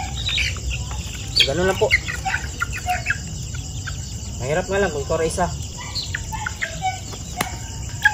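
Chickens in a poultry pen cluck and cackle in short bursts, with a shrill insect buzz running underneath and someone talking nearby.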